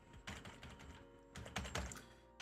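Keys on a computer keyboard clack in quick irregular bursts of taps, fairly quiet and close, with short pauses between clusters.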